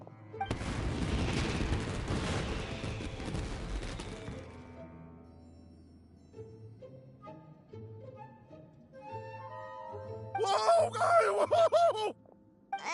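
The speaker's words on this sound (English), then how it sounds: "Yoimiya, this is turning into a bit of a fireworks display." Fireworks burst in the video game Genshin Impact: a loud cluster of booming, crackling explosions for about four seconds, then quieter game sounds and a bright sparkling burst near the end.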